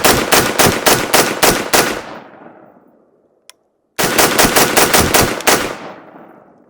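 An IWI Carmel 5.56 rifle fires two loud, rapid bursts of closely spaced shots, each fading into a ringing echo, with a short silent pause and a single faint click between the strings.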